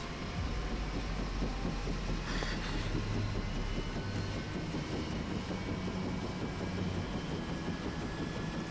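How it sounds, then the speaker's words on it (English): A continuous rumbling helicopter drone with a faint whine in the game Final Fantasy VII Rebirth, steady throughout, humming in the background. "There's the helicopter."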